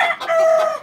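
A leaper gamecock rooster lets out a short, loud, close crow with a clucking edge, lasting under a second with no other sounds around it.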